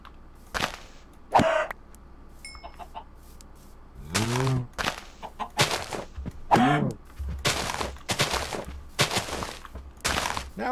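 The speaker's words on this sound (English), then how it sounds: "hear a chicken" A chicken in the Minecraft video game clucks in a few short, separate bursts against a quiet background, with game thunks between the calls.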